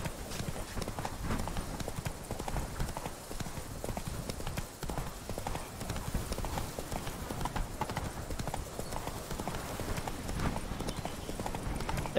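Horse hooves clip-clop steadily at a gallop in The Witcher video game, with occasional whinnies, running continuously throughout.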